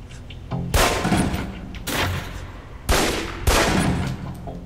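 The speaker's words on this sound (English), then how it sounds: "Equip the pistol, then aim down range and take some shots at the target." Pistol fired at a target in a video game, four loud separate shots spaced about a second apart, each with a sharp crack and echoing tail.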